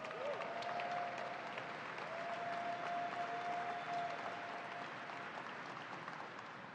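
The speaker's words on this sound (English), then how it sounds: "Let's give them a round of applause" An outdoor crowd at the New York State Fair applauds future farmers and 4-H members, a steady wash of distant clapping that holds for several seconds, with a faint tonal whine riding above it.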